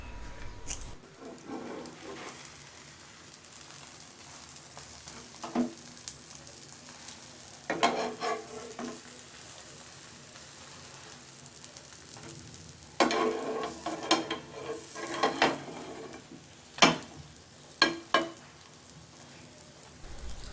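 A bread omelette fries in a pan with a steady low sizzle, broken by scattered spatula scrapes and clinks that cluster toward the end, without speech.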